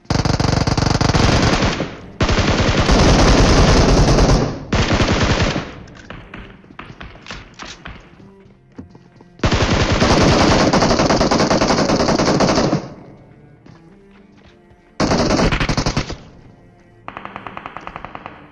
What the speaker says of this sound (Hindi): भाई क्या ही कवर फायर दिया मेरी टीम ने यहाँ पे।